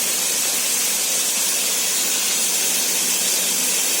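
Chopped tomatoes hit a hot pan for mutton biryani and set off a loud, constant sizzle, a broad hiss that holds steady without a break and with no voices over it.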